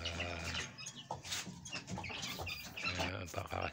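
Young chicks peep and cheep in busy overlapping bursts while being fed a mixed feed, moderately close, with a steady low hum and a person's voice talking over them.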